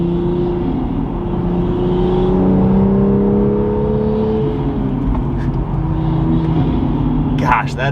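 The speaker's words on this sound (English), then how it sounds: "that is an addicting sound in this Supra now" Manual Toyota Supra fitted with a carbon fiber Armaspeed intake, its engine droning loudly and steadily with rising and falling rev sweeps, close and continuous, with a brief burst of wind or intake noise near the end.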